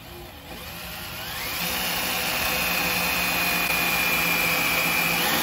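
A power drill whines steadily up close while drilling a hole in the bumper of a 1983 Ford Mustang Fox body, pitch rising as it spins up, then holding a continuous high grinding tone.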